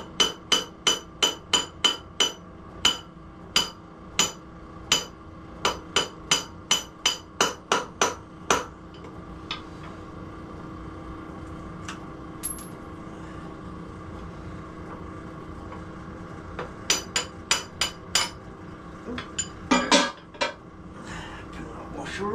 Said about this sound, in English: A bit of brass. Tap this front wheel spindle out.